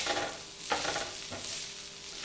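Grated coconut and tomato sizzle in a hot pan as a spoon stirs them, a soft constant frying hiss broken by a few scraping strokes, close and quiet with no talking.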